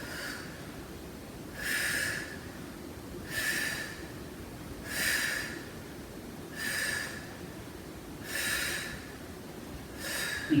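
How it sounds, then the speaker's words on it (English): Heavy rhythmic breathing during a TRX suspension workout, six strong breathy exhales spaced about every one and a half seconds over a steady low background hum, close with no talking. "Breathe."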